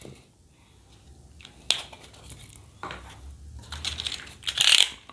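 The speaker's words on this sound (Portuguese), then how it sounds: "E agora a gente vai cortar isso." Craft knife scoring and cutting through glove puppet head material, a series of close, short scraping and clicking cuts that grow louder and denser toward the end, with no talking.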